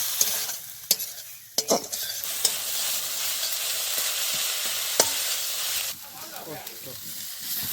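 A fish-head ghonto sizzles and fries in a pan, with a steady hiss broken by sharp scraping stirs from a spatula at irregular moments.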